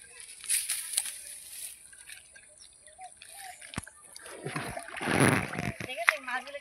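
Deshi magur catfish thrash in shallow water, giving scattered light splashes, then a louder burst of sloshing and splattering near the end, close by.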